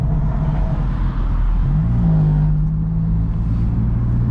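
A BMW M4 engine drones loudly and steadily at close range, a deep continuous rumble with a rising whine midway through that holds at a higher pitch.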